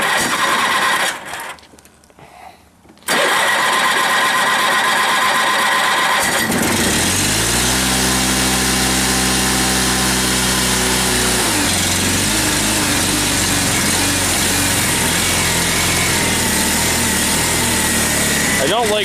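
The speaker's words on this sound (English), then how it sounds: "I don't like starting it on full throttle like that. But there it is, it's running." A Honda tractor engine cold-starts on full throttle after a short quiet pause, then roars into a loud, steady high-pitched run with a brief change in pitch partway through; people talk nearby.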